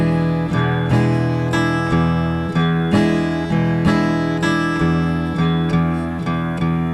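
Acoustic guitar playing a slowed-down blues shuffle, with evenly repeating strummed chords in a lopsided, loping rhythm, close and steady with no talking.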